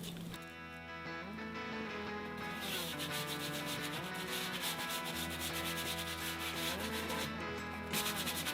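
Rhythmic sanding scrapes against wood, a dense rasping rub repeated continuously at close range, with no talking.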